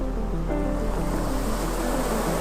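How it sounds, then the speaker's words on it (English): Ocean waves wash against volcanic rocks on the coast of Lanzarote, a loud continuous surging roar of surf with wind noise, steady throughout and alone. "Waves play with the rocks."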